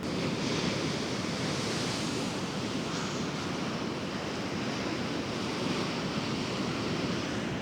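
Ocean waves wash onto the shore at a fishing spot, a loud continuous roar of surf mixed with wind buffeting the microphone throughout.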